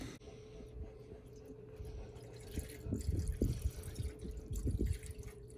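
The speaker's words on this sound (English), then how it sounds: "dump some of this coolant in there single-handed" Coolant glugs and splashes faintly as it is poured into the LS-swapped engine of a 1966 Chevrolet C10 pickup, with irregular gurgling bursts over a low steady hum.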